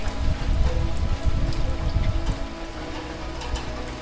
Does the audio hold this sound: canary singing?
no